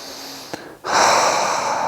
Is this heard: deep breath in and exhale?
yes